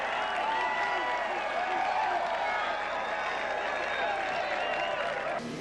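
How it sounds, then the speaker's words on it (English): A crowd fills a baseball stadium with sustained applause at a season opener, dense clapping spreading across the stands for several seconds before cutting off abruptly near the end. "It's nice to see another good crowd here for the opener at Wade Stadium, Gary"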